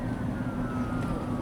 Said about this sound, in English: It's an ambulance trying to get to the hospital.